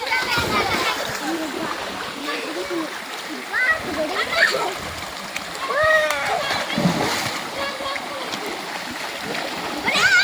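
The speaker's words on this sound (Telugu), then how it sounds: "అడవి మధ్యలో water fall, mini water fall అన్నమాట ఇది." Water rushes and splashes continuously at a mini waterfall in a forest, with children playing and sliding nearby, their voices and shouts mixed over the steady splashing.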